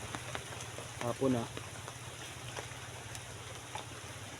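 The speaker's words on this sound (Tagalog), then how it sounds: "Umuulan pa naman." Steady outdoor rain hisses on surfaces, with a brief spoken phrase near the middle and faint patter throughout.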